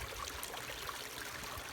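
A creek runs over rocks, giving a steady, soft, continuous wash of flowing water with no other sounds on top.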